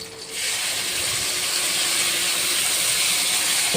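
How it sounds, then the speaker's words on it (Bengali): Spice paste of onion, garlic, ginger and chilli hits hot oil with a sudden loud sizzle that settles into a steady, close hiss. "তো চলো এটা আমি তেলে ঢেলে দেবো এখন।"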